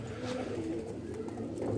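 A male broad-winged pigeon coos softly and close by in a low, throaty murmur lasting a couple of seconds, with no voices present.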